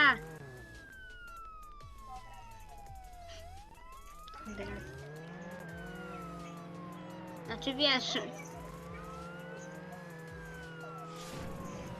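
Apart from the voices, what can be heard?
police car siren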